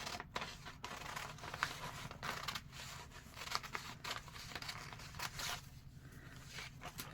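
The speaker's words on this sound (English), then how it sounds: "So now I'm going to use my big scissors." Big scissors snip through a paper ornament pattern in a quiet room, with a steady run of close, crisp cuts and faint scraping between them.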